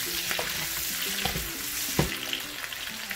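Pork sizzles and fries in a pan while being stirred and sautéed for humba, a sweet and sour pork dish, with steady crackling and a few sharper scrapes and clacks of the utensil, close and continuous.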